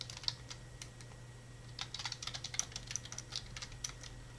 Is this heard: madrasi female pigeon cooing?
no